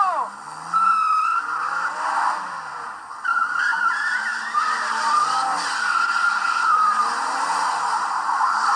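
An old 1980s car skids with a long tire squeal, then keeps revving and pulling away, the engine loud and steady throughout while voices speak over it.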